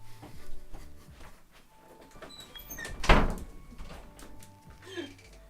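A door slams once, loud and near, in the middle of a quiet room, with soft household noises and faint movement before and after.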